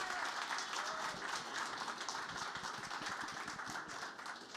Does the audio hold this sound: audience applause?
yes